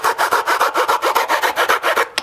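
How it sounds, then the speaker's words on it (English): A hacksaw blade shaves a peg down on a Creature from the Black Lagoon costume piece, a quick run of about fifteen even back-and-forth rasping strokes, close and loud, ending in a final scrape. "I've got just a hacksaw blade. And I want to shave that peg off to almost all the way off"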